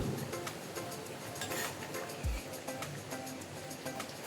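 A pot of drumstick egg curry, murungakai muttai kuzhambu, bubbling over a medium flame, a close steady simmer with soft irregular pops and gurgles and no voices.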